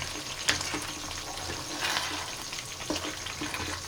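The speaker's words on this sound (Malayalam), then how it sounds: "ഇപ്പോൾ നമ്മുടെ ചിക്കൻ നല്ലപോലെ വെന്ത് വരുന്നുണ്ട് അതുപോലെ തന്നെ എണ്ണയെല്ലാം തെളിഞ്ഞ് വരുന്നുണ്ട്" Chicken chukka frying in coconut oil in a pan, a steady close sizzle and crackle with a few sharper pops and clinks, no voices.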